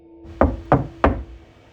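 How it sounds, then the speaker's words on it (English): Three firm, evenly spaced knocks strike a door in quick succession, sharp and close, over a faint steady hum. "The knock on my door came at 2 a.m., sharp and insistent."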